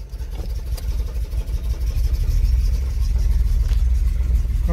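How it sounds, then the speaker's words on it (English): A car engine runs with a low, steady rumble as the car creeps forward, close and fairly loud, without talk. "Car's on, you can hear it."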